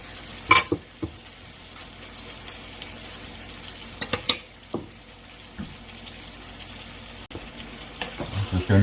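Onions frying in a pan for copycat tacos, a soft steady sizzle broken by several sharp knocks and scrapes of stirring, close and fairly loud.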